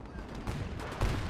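German gunfire in the Gates of Hell battle game, heard as faint, crackling bursts of rifle and machine-gun fire overlapping in a rough, noisy barrage.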